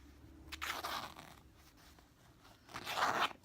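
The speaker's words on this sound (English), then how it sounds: "so take my scissors, sharp," Sharp scissors slide along fabric in two quiet, rasping strokes, each a brief scratchy swish separated by a short pause, close and faint with no voices.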